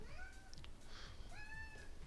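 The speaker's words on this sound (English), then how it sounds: "That's my cat." A house cat meows twice, close and clear, each call a short rising-and-falling whine over a quiet room.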